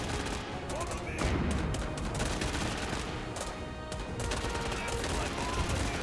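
Machine gun fire from an MG placement during a match of the strategy game Age of Empires IV, heard as dense, continuous bursts of gunfire and explosions throughout, loud and busy, with a commentator talking over it.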